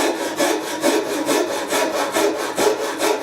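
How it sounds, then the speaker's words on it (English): Japanese Shinto rasp stroking a carved maple mandolin neck, a rapid run of rhythmic rasping strokes, close and loud, about ten passes with no talk. "my other favourite tool for working on necks is one of these Japanese Shinto rasps"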